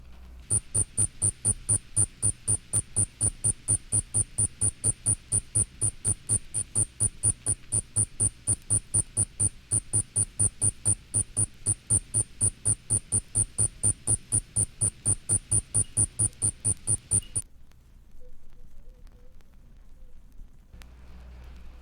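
The ground cricket Nemobius fasciatus socius sings a steady, evenly spaced pulsed trill, clear and close, running unbroken for about seventeen seconds before stopping abruptly into near silence.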